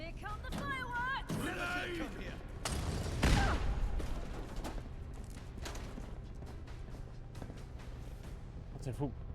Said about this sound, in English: I still hear grenades and molotovs being lobbed around.